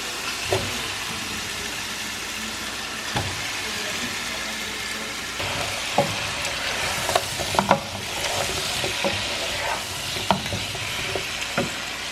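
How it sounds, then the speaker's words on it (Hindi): Potato pieces go into hot oil in a pan for dum aloo, setting off a steady soft sizzle with occasional stirring clinks and scrapes, close and moderately loud. "अब इसमें मैं आलू डाल रही हूँ"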